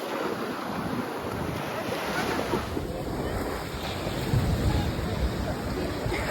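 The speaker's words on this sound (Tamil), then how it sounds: "ஸோ அலை பார்த்தீங்கன்னா இந்த பக்கம் இருந்து ஒரு அலை, இந்த பக்கம் இருந்து ஒரு அலை வருது" Sea waves washing in from two sides where two seas meet at Rameswaram, a steady loud surf roar with heavy wind buffeting the microphone throughout.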